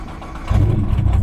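A modified Nissan GT-R engine cranks and fires up, its deep exhaust rumble jumping in loud and close about halfway through, then settling into a steady, throaty idle.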